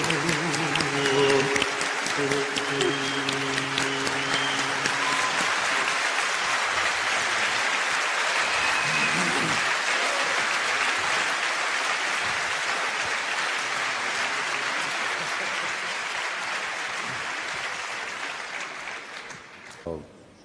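Clapping from the audience at a Turkish music honor award ceremony greets a folk poet, broad sustained applause with music fading early, rolling on for many seconds before slowly dying away.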